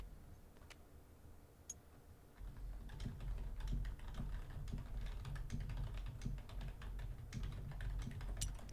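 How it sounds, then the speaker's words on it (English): Rapid typing on a computer keyboard during a competitive game, starting as a few isolated key taps and then breaking into dense, continuous clattering keystrokes close to the microphone. "You're hearing a lot of typing from me."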